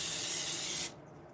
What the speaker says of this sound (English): And I'm spraying the bottom.